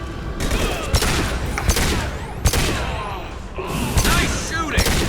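Bursts of gunfire from the video game Mass Effect 2, with repeated sharp shots and booming impacts over a continuous rumbling combat din, loud and dense throughout.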